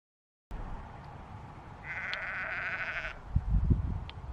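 A single sheep gives one drawn-out bleat at a moderate distance over an outdoor background hum, followed by some low rustling and bumping noises.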